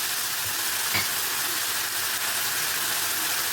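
Bell peppers sautéing in a pan give a soft, continuous sizzling hiss, fairly quiet and even, with one brief clink of stirring near the start.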